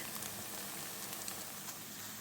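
Grated potato pancakes fry in a pan, turned to cook each side for two to three minutes, giving a faint, steady sizzle and crackle with scattered small pops and no talking.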